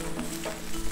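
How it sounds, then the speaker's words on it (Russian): Country-style potato wedges fry in a pan, a short steady sizzle with light crackling, close and even. "Вот наш картофель уже хорошо обжарился."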